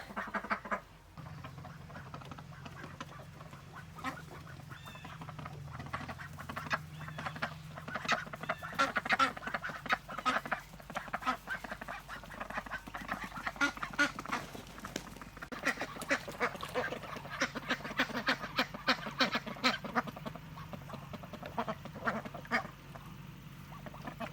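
Young and maturing pet ducks quacking steadily, with several birds overlapping in continuous chatter at close range, a low hum running underneath.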